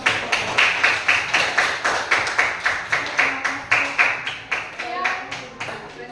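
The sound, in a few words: group applause after a presentation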